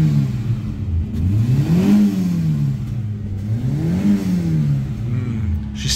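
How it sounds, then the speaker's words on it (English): A Proton Saga car engine, off the road for eight years, revs up and down twice in slow swells, a loud close rough mid-pitched drone that rises and falls with each throttle blip, with no talking. "I'm gonna rev her."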